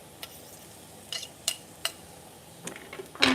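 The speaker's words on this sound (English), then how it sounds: "Do you hear that? Hear the sizzle?" Garlic frying in oil in a pan while making a high-protein bolognese, with a low steady sizzle under a few sharp utensil clinks and scrapes against the pan, close up and fairly quiet.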